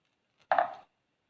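Skin being torn off a washed sour mango for Kerala mampazha pulissery: a single short, rough ripping scrape lasting about a third of a second, close and fairly loud, with silence before and after.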